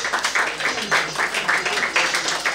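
Audience applause for models at an accessories fashion night in Cotonou, a dense, steady wash of many hands clapping with rhythmic swells, moderately loud.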